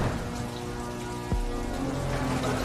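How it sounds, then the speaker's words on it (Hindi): Rain falls steadily in a cartoon, a dense hiss of drops with a sudden low thunder-like thump partway through, heard alone without talking. "अब तो तुम्हारे साथ रोने के लिए बारिश भी आ गई।"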